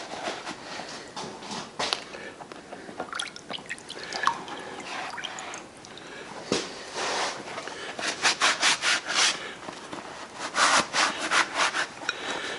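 A rusty wrench is scrubbed after a day of soaking in rust remover, giving repeated rubbing, scraping strokes that grow more rhythmic and steady toward the end, heard close and alone.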